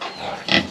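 Black pigs in a pen at a village home in Ha Giang, Vietnam, give a short, close burst of grunting and squealing that lasts under a second.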